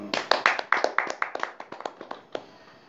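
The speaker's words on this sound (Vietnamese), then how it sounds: "Cho tràng pháo tay đi." A small group of people clapping hands in a home gathering, a short ragged burst of crisp claps that thins out and stops after about two and a half seconds, with no talk over it.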